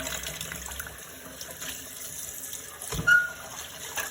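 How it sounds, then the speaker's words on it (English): Tap water runs steadily into a sink while chitterlings are rinsed clean, a soft continuous hiss and splash with a brief clatter near the end. "Look how that water runs clear."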